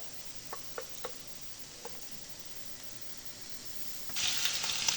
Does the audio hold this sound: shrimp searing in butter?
yes